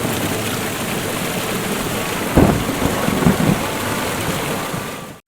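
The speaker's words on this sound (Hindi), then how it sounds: "तेज हवाओं के साथ जोर जोर से बिजली कड़कने लगती है और देखते ही देखते तेज बारिश होने लगती है" Dense, steady downpour roars throughout, with a sharp thunder crack partway through followed by a few lower rumbles.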